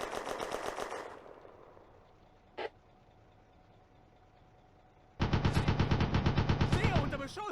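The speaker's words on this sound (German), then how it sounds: "A Soviet heavy machine gun opens up from the Paraskevi Church." A Soviet heavy machine gun in the war game Firefight fires in loud, rapid bursts, one at the start and a longer one near the end, separated by quiet and a single brief crack.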